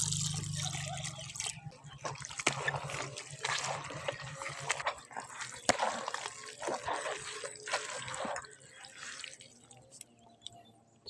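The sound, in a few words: water poured into fermented organic chicken feed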